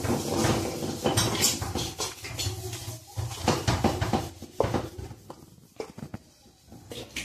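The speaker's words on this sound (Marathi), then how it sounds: "मी आता गरम तेल टाकायचे म्हणून चम्मचने मिक्स करत आहे।" A metal spoon stirs spiced rice flour in a bowl, giving repeated scraping and clinking strokes against the bowl's sides in an uneven rhythm, close and fairly loud, with no talking.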